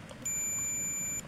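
A multimeter in continuity mode gives one steady, high electronic beep lasting about a second while testing a ceramic SMD capacitor, clear and fairly close over quiet background.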